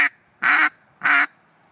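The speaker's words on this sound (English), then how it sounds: "it would sound like this. You'll be choking off the air to the call." A duck call blown with the fingers kept closed over its end, choking off the air: a clipped start, then two short, even quacks, close and distinct with quiet gaps between them.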